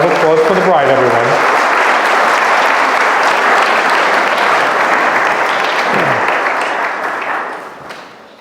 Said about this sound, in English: A round of applause for the bride, everyone.